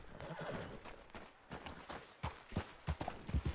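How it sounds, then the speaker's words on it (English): Horse hooves clip-clop in the Red Dead Redemption 2 video game, a steady run of hoofbeats that grows louder and more distinct toward the end, with a horse whinny and faint background ambience. "Bora, meu cavalo."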